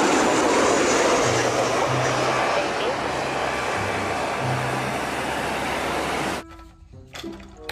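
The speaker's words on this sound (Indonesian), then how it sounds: "pesawat terbang" A loud, steady roar of an airplane engine in the video game Jurassic World Evolution 2 drones throughout, cutting off abruptly near the end.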